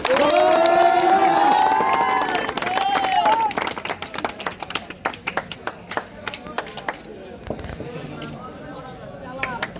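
Crowd claps and cheers for tape-tennis batsman Jabel Munshi after an unbeaten innings, loud and dense at first with whistles, then thinning to scattered claps.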